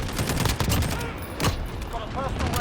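A SCAR-17 assault rifle fires in the video game Modern Warfare as a dense, loud run of rapid shots that blur into one another, with game sound effects layered on top.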